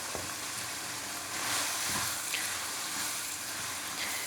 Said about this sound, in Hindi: ये देखिए जी कीमे की हो रही है अच्छे तरीके से बनाई